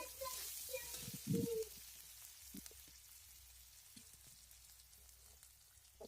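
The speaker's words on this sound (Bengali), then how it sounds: "পেঁয়াজটাকে ভালো করে আমি একটু লাল লাল করে ভেজে নেব।" Chopped onion and split green chillies sizzling in hot oil, a steady soft crackle with a few clinks of a utensil early on, faint and close.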